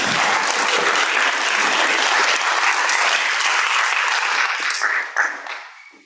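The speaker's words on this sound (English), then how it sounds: "a round of applause for Gail Saunders for all of her work at Company" Loud, sustained clapping from a large audience at a town hall, steady and dense for several seconds before tapering off near the end.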